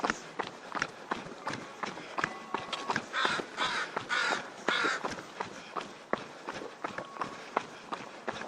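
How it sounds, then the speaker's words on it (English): A raven near a street gives a series of harsh, repeated caws over the rhythmic crunch of running footsteps, loud and close as the runner approaches. "Noisy raven as I approach Shelbourne Street."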